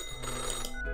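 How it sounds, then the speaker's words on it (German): Telephone ringing in the office-themed video game Death and Taxes, a bright electronic ring sounding steadily for about a second over a low background hum, with no voices. "Telefon klingelt."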